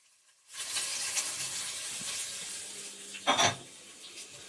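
A steady sizzle of tripe frying in oil in a pan, close by, with a brief clatter of stirring partway through; no talking.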